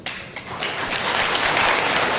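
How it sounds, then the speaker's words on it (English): Crowd applause greets the new Chief Girl Scout, the First Lady, at an investiture ceremony of the Girl Scouts of the Philippines; dense, loud, steady clapping that builds slightly and carries on without voices. "Let's give a round of applause to our new Chief Girl Scout, First Lady, Louise Araneta-Marcos."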